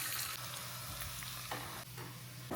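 Steady crackling sizzle of tempering spices frying in hot oil for curd rice, close and continuous, with a few brief stirring scrapes.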